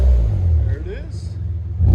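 A 1995 Nissan Cedric with a 3.0L VQ30 V6 and DTM exhaust revs loudly up close, a deep throaty rumble rising in pitch and settling back, with a second surge at the end.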